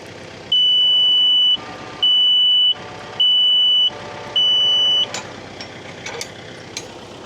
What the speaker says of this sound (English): That backup beep is a little bit annoying.